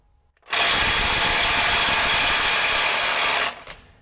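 A RIDGID SubCompact impact wrench fitted with a welded 3/8 drive adapter hammers hard in one loud continuous burst of about three seconds, then stops. Near and with no talk.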